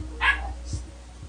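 A dog barks once nearby, a short sharp bark followed by a faint second yip, heard over a quiet room.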